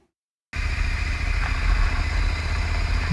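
A Ducati Scrambler motorcycle idles high in Ladakh at Pangong, its low, steady engine rumble starting abruptly after a moment of silence and then running evenly and close.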